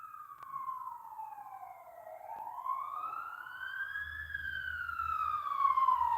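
A wailing fire engine or ambulance siren sweeps down and then up in pitch, steady and moderately distant, with a low pumper truck engine rumble growing underneath toward the end.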